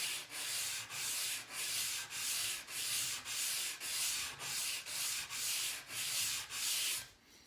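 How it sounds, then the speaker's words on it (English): Sandpaper rubs by hand along a wooden edge, following the grain in about eleven steady back-and-forth strokes, each a broad, close hiss with brief gaps between. "I'll do that with my sandpaper, sanding with the grain"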